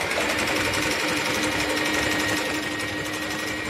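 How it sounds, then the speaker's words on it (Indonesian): A Singer portable sewing machine stitches a crescent moon motif with a continuous, dense, buzzing mechanical whir, close and steady throughout with no pauses. "Motif bulan sabit coba langsung dijahit."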